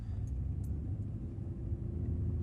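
Low, steady engine rumble of a project car on its first test drive, heard from inside the cabin, a continuous drone at even volume with no talking.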